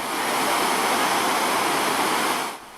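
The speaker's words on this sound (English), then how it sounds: "River Kafu burst its banks and flooded one section of Hoima-Kampala Highway on Monday following a heavy downpour" Floodwater from the River Kafu, burst from its banks after a heavy downpour, rushing over a section of the Hoima-Kampala Highway in Uganda, a loud steady roar of broadband churning water that fades slightly at the end.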